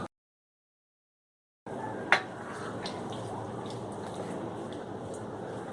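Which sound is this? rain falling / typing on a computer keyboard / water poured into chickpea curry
water poured into chickpea curry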